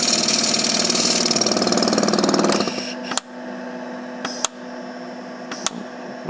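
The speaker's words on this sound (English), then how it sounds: "The pumps obviously turn on." Buchi Vacobox B-177 vacuum pumps run loudly with a dense mechanical drone for a few seconds, then drop to a steadier, quieter hum under load, with a few brief sharp clicks or hisses along the way.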